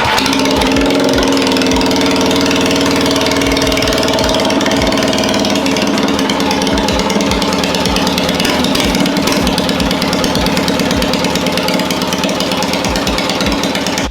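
A small pull-start engine runs steadily and loudly close by, with a fast, rough mechanical chatter and a strong low hum throughout, no talk.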